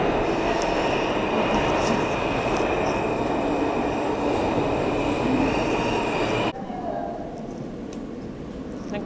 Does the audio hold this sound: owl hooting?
no